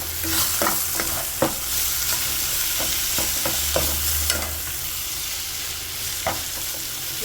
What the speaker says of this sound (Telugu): ఇది మెంతకారం యాడ్ చేసుకుని బాగా కలుపుకోవాలి